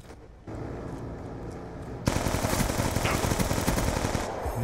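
Rapid automatic gunfire from the video game Black Ops II in multiplayer, a dense burst of rattling shots that starts abruptly and keeps going loud and steady.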